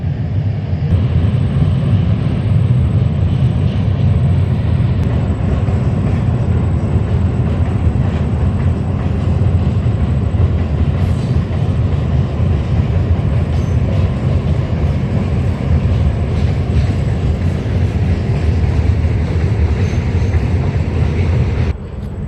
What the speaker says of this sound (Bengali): চলে আসছে পাঁশকুড়া হাওড়া লোকাল